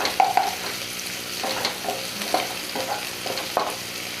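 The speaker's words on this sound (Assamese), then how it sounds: "এতিয়া ভালদৰে লৰাই দিম এতিয়া গেছৰ ফ্লেমটো মই হাই কৰি দিছোঁ" Whole cumin seeds being stirred in a pan over a high gas flame, soft sizzling under a series of scraping stirs and metal clinks every second or so.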